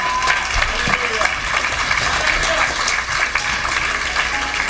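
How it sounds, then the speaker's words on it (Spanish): A church congregation in Nogales applauds steadily throughout, dense clapping filling the room, with voices mixed in underneath. "Les damos un aplauso, por favor"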